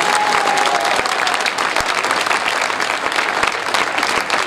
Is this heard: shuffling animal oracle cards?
no